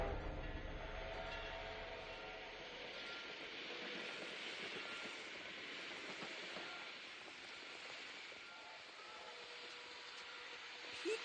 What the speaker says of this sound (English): The flying train has arrived, and you're going to make us miss it.